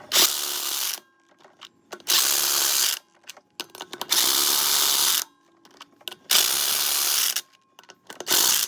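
Power tool retightening brake caliper bolts one after another during a brake pad change: five loud, separate bursts of rattling, ratcheting whir, each about a second long, split by short silent gaps.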